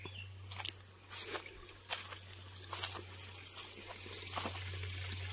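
Water trickles and splashes softly at a village well bathing spot, flowing down from above, faint and close with a low steady hum underneath.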